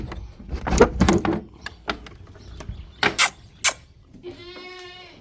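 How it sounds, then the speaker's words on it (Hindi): Goats bleat inside a mud-walled room at a village in South Punjab, Pakistan in the morning, with clattering and door sounds before a clear, wavering bleat near the end. "बकरियां हमारी फ़िलहाल उस कच्चे कमरे के अंदर हैं"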